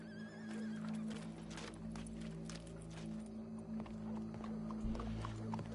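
A horse whinnies and hooves clop in Red Dead Redemption 2, set over a steady low game hum, with the neigh standing out early and hoofbeats scattered through.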